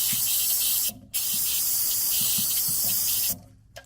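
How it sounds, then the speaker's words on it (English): Spray of water hissing over spilled coolant in the engine bay of a 2014 Cadillac CTS, a close, steady burst lasting a few seconds, cut by one short pause. "I tried spraying it."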